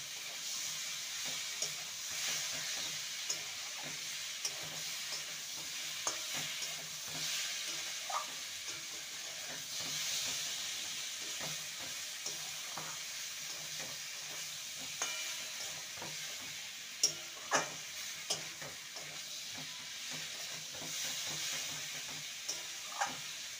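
Fried taro and potatoes are stirred into a prawn masala in a pan, giving a steady soft sizzle with frequent light scraping and clinks of the spoon, fairly quiet and with no talking.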